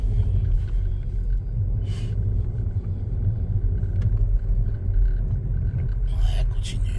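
Car interior during a driving lesson, with steady low engine rumble as the car drives and accelerates, heard up close under occasional talk.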